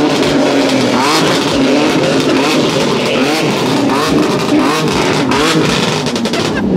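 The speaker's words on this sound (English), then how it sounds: "I wanna hear a rev." A Nissan 240 fitted with a 2JZ engine revs hard, a loud, dense roar that swells and holds nearby for several seconds without pause, with no voices over it.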